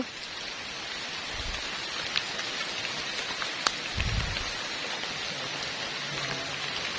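Steady rain falls in a forest along a creek, a dense even patter with a few sharper drops, close and continuous throughout.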